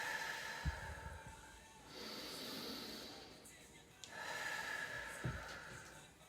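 Slow, deep breaths drawn in and let out close to the listener, two long inhale-exhale cycles with soft airy rushes and faint nasal snorts, quiet and unhurried.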